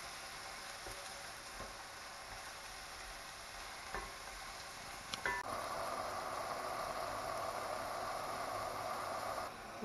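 Spinach frying in a pan gives a faint, steady sizzle with a few light ticks and utensil taps, growing a bit louder and brighter toward the end, no talk.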